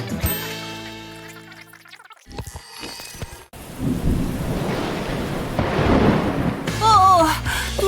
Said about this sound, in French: Dis donc, il pleut des cordes dehors.